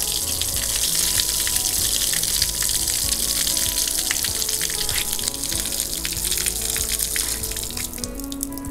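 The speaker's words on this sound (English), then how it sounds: "So we're just going to open them up, pull the valve, and let that excess water and antifreeze that's mixed" A steady, loud gush of excess water mixed with antifreeze pours out through an opened RV drain valve, a constant rushing flow close by with no letup.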